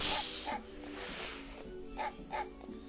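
A dog in the Mega Man Legends video game barks several times in short, sharp bursts, a couple grouped close together, fairly clear against a quiet background.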